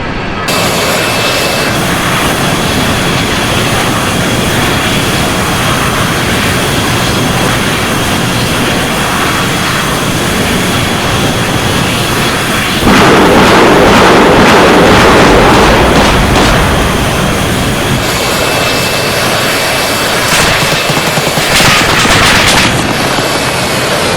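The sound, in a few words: A-10 jet attack run with gunfire in video game Arma 3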